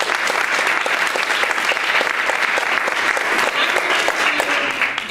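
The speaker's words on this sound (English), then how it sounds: "So just one round of applause to her." An audience gives the founder of a Kenpo women's martial arts symposium a steady, dense round of applause that holds evenly throughout, with faint voices underneath.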